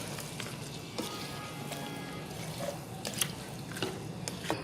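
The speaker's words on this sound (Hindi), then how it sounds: "अब मैं इसमें टोमेटो प्यूरी ऐड करूँगी।" Tomato puree goes into a pot of half-tender mutton curry, giving a steady low sizzle and bubbling with a few faint drips and clinks, close by and without talk.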